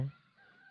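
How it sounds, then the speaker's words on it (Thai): Rooster crowing at dawn in misty Mae Hong Son, northern Thailand: one crow with a sustained, slightly wavering call after a louder onset, moderately distant and faint, with no talk. "เสียงไก่ขันเนี่ยโอ้โหแข่งกันขันเลยนะ"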